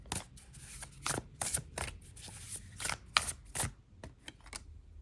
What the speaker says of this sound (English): So let's have a shuffle.